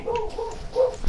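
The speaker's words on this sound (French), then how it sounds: "désolé si vous entendez mon chien" A dog in the room gives a few short yips and whimpers, close by and moderately loud, in a brief sequence with no talking.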